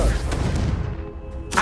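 A Confringo spell explosion from the video game Hogwarts Legacy: a heavy, booming blast opens and rumbles away, and a second sharp burst follows near the end.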